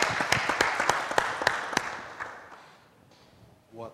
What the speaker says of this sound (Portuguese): E já pode ir levantando e recebendo os aplausos!